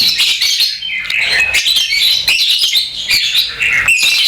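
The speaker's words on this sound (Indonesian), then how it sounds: "Ini cara saya penggacoran ya, cara saya penggacoran lovebird jantan." A male lovebird sings close and loud, a dense run of shrill, rapid chirps and squawky twitters with brief pauses, no talking over it.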